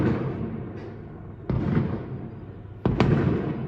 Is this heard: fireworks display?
yes